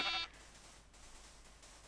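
A single short, faint sheep bleat in Minecraft, a brief buzzy cry at the start followed by low background hiss.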